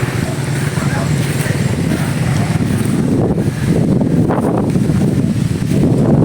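Strong monsoon wind roars steadily against the microphone in a continuous, loud, buffeting rush in the rural Philippines, with faint voices underneath.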